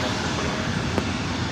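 Airliner taking off from runway 24 right at LAX, a broad roaring jet engine wash that stays steady and loud for a brief moment, with no voices.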